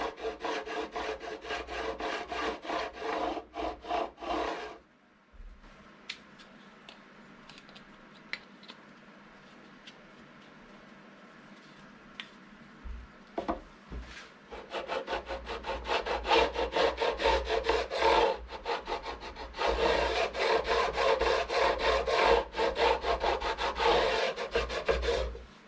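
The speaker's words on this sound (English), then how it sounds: "I have this special fret grinder." A fret grinder rasps steadily back and forth across the fret ends of a cheap ES-335-style guitar, loud scraping strokes that stop for several seconds and then start again, with no voices.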